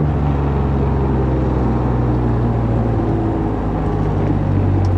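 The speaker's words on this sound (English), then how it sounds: "the intake actually has a nice little whistle to it because of the Comtech intake that's on the car" Steady drone of an Acura NSX engine fitted with a Comtech intake while driving in morning traffic, a continuous low rumble with faint intake whistle, close and loud throughout.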